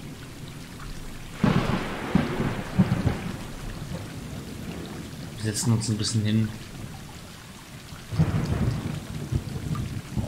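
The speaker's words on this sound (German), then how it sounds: "Schauen hinaus in den Regen." Steady rain patters in the video game Stray while low thunder rolls in several separate rumbles, and someone speaks German quietly over the storm.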